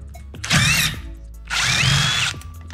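A power drill bores through a metal boat trailer in two close, loud whining bursts of about half a second and one second, with a short pause between.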